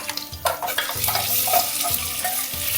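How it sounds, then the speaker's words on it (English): Half a kilo of nalli mutton fries in hot ghee inside a pressure cooker, a steady close sizzle broken by repeated stirring scrapes against the pot at roughly half-second intervals. "Just fry the meat for 2 to 3 minutes."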